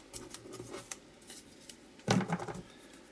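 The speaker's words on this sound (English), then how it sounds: "get some double-sided tape like that, just lay it on, and then just tear off" Double-sided tape is peeled and torn off its roll, a short crackling rip near the end following softer handling rustles, close and fairly quiet.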